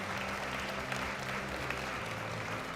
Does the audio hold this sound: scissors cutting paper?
no